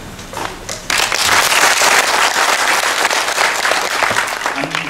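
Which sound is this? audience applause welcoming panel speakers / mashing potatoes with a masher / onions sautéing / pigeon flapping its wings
audience applause welcoming panel speakers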